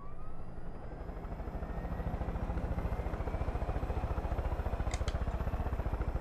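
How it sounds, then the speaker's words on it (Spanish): A helicopter in the video game Far Cry 5 flies close by, its rotor chopping out a fast, steady pulse over a continuous engine whine for the whole stretch, loud and unbroken. "Ojalá pudiera tener un helicóptero yo."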